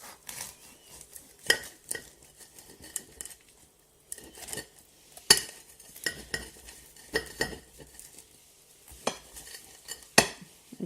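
Knife cutting into a crispy scotch egg, scattered sharp crunches and scrapes against a plate, quiet and close, with pauses between strokes and no talking.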